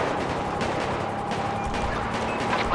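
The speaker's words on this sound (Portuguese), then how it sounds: "o Rocan tomou tiro" Rapid gunfire in GTA 5 during a police motorcycle pursuit, a dense, continuous crackle of shots that runs loud and steady through the whole stretch with no talking.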